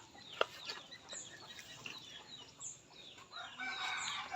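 Chickens cluck and a rooster calls around a rural farmyard, several birds close and farther off, busy overlapping clucks over a steady outdoor background with no talking.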